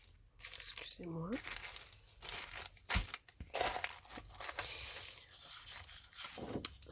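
Specialty paper sheets with champagne-colored accents from a Stampin' Up stamp and die-cut set crinkle and rustle in irregular bursts near the microphone, some sharper crackles standing out against a quiet background.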